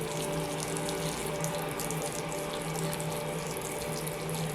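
Steady, continuous pouring and splashing of water as a bonsai pot from a branch cutting is soaked until the soil is completely wet, close and even throughout with no speech.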